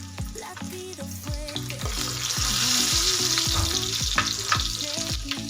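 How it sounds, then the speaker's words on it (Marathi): Crushed garlic sizzles loudly in hot oil in a kadhai, with a dense bubbling hiss that builds and holds. Light tapping and scraping from a utensil sounds throughout, and there is no speech. "तेल गरम झालं की मी इथं नकलून घेतलेला लसूण आहे, हा लसूण आपल्याला तेलामध्ये घालून घ्यायचा"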